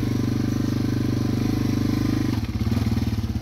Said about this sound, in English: I'm on Matt's motorcycle because he took my four-wheeler